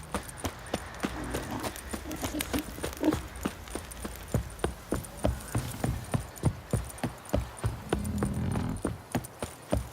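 Steady clip-clop of horse hooves in the video game The Witcher 3: Wild Hunt, crisp regular beats at a brisk pace over a low rumbling background, continuing throughout.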